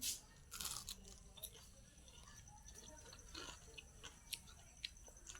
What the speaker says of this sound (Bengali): তো আমি বেগুনি খেতে শুরু করে দিলাম